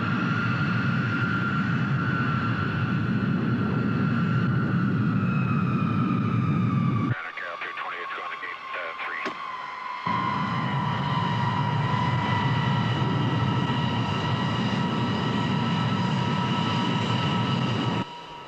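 Airliner taxiing toward the runway in a movie scene, a steady jet engine whine and broadband rumble running throughout, briefly dropping out midway while a radio voice is heard.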